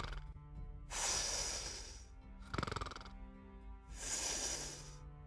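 A person imitates snoring with their voice, giving three long breathy rasping snores spaced about a second and a half apart, with a shorter snort between them, close and fairly quiet, with no talking.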